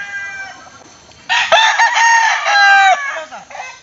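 A rooster crows loudly and close by, one long harmonic call starting after a quiet moment, with faint clucking around it.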